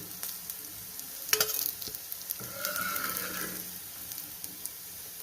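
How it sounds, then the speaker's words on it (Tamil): Raw banana slices frying in oil with garlic make a soft continuous sizzle, with a few utensil clicks and a brief louder stirring scrape, close and without talk. "பாருங்கள், ரெண்டு பக்கமும் ஃப்ரை பண்ணியாச்சு. நம்ம இப்போ இந்த பூண்டோட சேர்த்து எடுத்துடலாம்."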